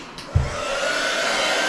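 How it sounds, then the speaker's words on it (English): A heat tool blows steadily while warming an inked gift tag held in tweezers at a craft table, a continuous whirring hiss after a brief click, with a faint tonal whine running through the airflow. "I'm just going to slowly heat this up."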